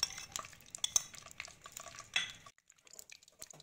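Whole spices (black peppercorns, curry leaves, star anise, black cardamom, cloves and cumin seeds) crackle in hot oil in a pan. Scattered pops and utensil clicks fade to a quieter spell near the end.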